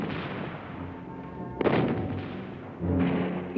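Austro-German cannons firing on the Russian eastern front in the First World War, heard as a continuous low rumble with heavier booming thuds arriving around the middle and near the end, loud and with no voices.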